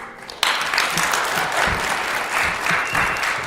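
A school audience bursts into loud, sustained applause at a high school poetry recitation contest, dense clapping starting abruptly and continuing steadily with a few scattered cheers and voices mixed in.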